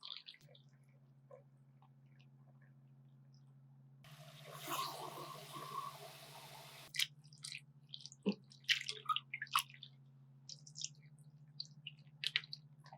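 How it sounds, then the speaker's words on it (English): Salted food for a Japanese New Year osechi dish is squeezed by hand to press out its water, giving quiet wet squishes and a run of dripping, with scattered small handling clicks over a faint steady hum. "Squeeze the water tightly and transfer to a container."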